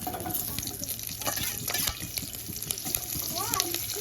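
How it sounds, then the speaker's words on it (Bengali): Nigella seeds, green and dried chillies, onion and garlic frying in oil, a close crackling sizzle broken by spitting pops and stirring clatter, continuous and moderately loud. "এবার ওই একই তেলে কিছুটা পরিমাণ কালো জিরে ফোড়নে দিয়ে দেব।"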